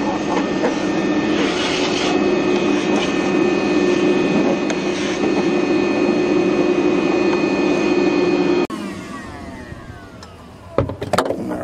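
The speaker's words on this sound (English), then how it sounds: "let us give that a quick clean up with the vacuum" A vacuum cleaner picks up fiberglass dust, running with a loud, steady roar and whine for about nine seconds before cutting off, leaving quieter handling knocks.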